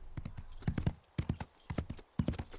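Hooves of a cartoon horse clip-clop in quick, irregular clusters of sharp knocks, fairly close and fairly faint, with nothing else in the way.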